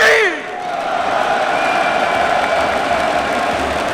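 A large esports crowd of about two thousand at a League of Legends LFL event roars and cheers in a dense, sustained wash of noise after a voice at the start trails off.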